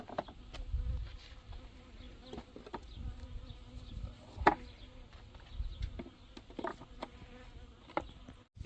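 A honeybee swarm buzzing around a hive, a faint, continuous hum with individual bees droning close by and brief louder passes, with no voices.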